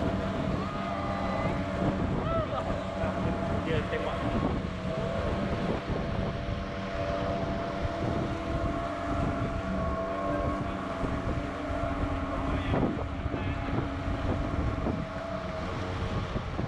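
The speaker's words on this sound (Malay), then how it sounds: "In wooden boats, you are going to transverse through 7 rapids along the Sungai Tembleng." A wooden boat runs upstream through rapids on the Sungai Tembleng, a steady rush of churning water and engine drone mixed with wind buffeting the microphone for the whole stretch, with no talk.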